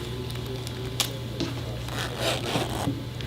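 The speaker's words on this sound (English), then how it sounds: "let's go ahead and open that zipper" A zipper on a fabric zipper sack is pulled open in short raspy strokes, fairly close and quiet, over a low steady hum.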